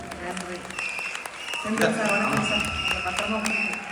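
Audience applause at a Tamil comedy event in America, a steady, dense clapping from a crowd that swells slightly and continues throughout, with a voice speaking over it.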